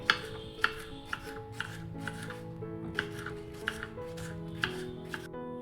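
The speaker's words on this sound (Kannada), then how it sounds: "ಇವಾಗ ಈ ಹೀರೆಕಾಯಿನ ಕೂಡ ಕಟ್ ಮಾಡ್ಕೊಳ್ಳೋಣ. ನೋಡಿ, ಇದನ್ನು ಸಣ್ಣದಾಗಿ ಕಟ್ ಮಾಡ್ಕೋಬೇಕು" A knife chops ridge gourd finely on a board in a quiet kitchen, with soft rhythmic taps about every half second and no talk over it.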